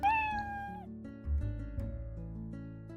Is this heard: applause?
no